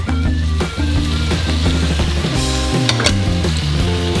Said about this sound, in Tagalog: Haluin lang natin para masigurado natin na natunaw maigi yung sugar.